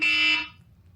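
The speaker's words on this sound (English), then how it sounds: "let me actually turn these alarms off." A phone-style alarm tone, loud and close: one sustained high beep lasting about half a second, then cut off, leaving a faint low hum.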